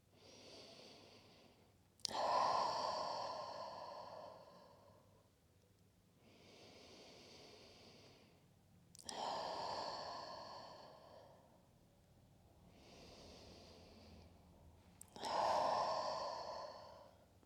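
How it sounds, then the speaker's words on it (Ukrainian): Slow yoga breathing: three cycles, each a soft inhale through the nose followed by a louder, breathy open-mouth "ha" exhale, spaced a few seconds apart in a quiet room. "Робимо три вдихи носом, а видих ротом ха."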